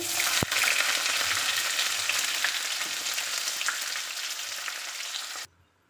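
Chopped onion sizzling in hot oil with dried chilli, bay leaf and cumin, a steady close frying hiss with a faint clink near the start, cutting off abruptly near the end.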